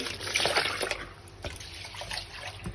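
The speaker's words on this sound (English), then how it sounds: "I'm going to rinse in with a little bit of water" Water pours and splashes into a rice pot for a moment, then trickles and drips more softly, close by with no talking.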